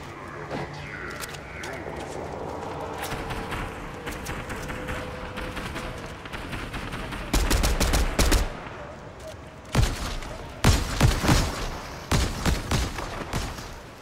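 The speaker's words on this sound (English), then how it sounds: "He's being shot at." Gunfire in a Fortnite match, with bursts of rapid shots and loud clustered blasts that grow denser in the second half, over constant game background noise.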